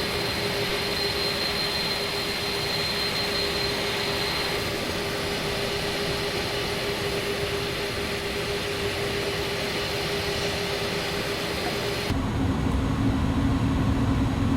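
An Airbus A310 jet in a flight simulator taxis to a gate at Perth, a steady loud engine drone with a high whine and a low hum that shifts abruptly to a deeper tone near the end.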